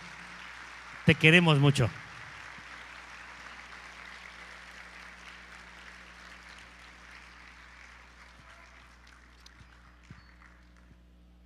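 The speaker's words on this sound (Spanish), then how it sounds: "¿Les parece bien si le damos un aplauso a mi hermana?" A church audience breaks into a short, loud burst of applause lasting about a second, then fades to a quiet room with faint murmurs and scattered small sounds; a brief spoken phrase is heard.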